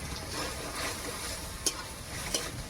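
Fried shrimp go into a hot frying pan for a tangy Bengali shrimp dish, bringing a steady, even sizzle with two faint clinks of a utensil against the pan.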